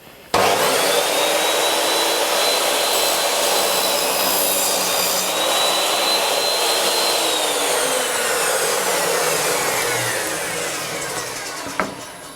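A Triton Workcentre saw squares off the rough-cut edge of a board in a long, loud, steady whine that holds for about ten seconds, then winds down with a sharp knock near the end.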